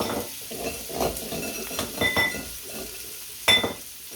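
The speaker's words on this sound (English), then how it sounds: "soften those onions up. I'll add the kale." Onions and kale sauté in a cast-iron skillet with a steady soft sizzle, broken by several sharp stirring scrapes and clinks of a utensil against the pan, fairly close and moderate in level.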